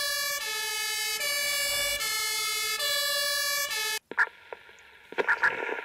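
Loud fire engine siren in the Emergency 4 game with the Bieberfelde modification, a steady wailing tone for about four seconds that cuts off abruptly, followed by quieter clattering vehicle and game sounds.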